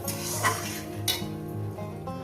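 A spatula stirring and scraping Bombay duck fish curry with eggplant, tomato and green chilli in a frying pan, with clinks of metal on the pan and a light sizzle over a steady tonal background.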